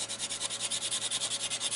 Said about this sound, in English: So I'm just going to sand all those edges nice and smooth.